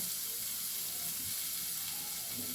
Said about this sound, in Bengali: এবারে পনিরগুলোকে একটু আমি ভেজে তুলে নেব।